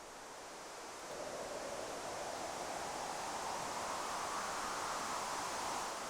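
Electronically synthesized wind effect built from filtered noise, a soft steady hiss that swells slightly after the first second and carries a gentle whistling sweep, quiet and continuous with no voice.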